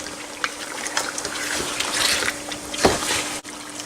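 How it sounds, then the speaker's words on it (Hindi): Water being poured into a pot of nihari meat, a soft continuous trickle and splash of liquid close by, with a brief louder slosh near the end. "अब इसमें 3 कप पानी डालकर मैं इसको गलने के लिए रख दूँगी"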